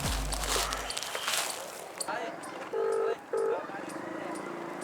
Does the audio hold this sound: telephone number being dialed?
yes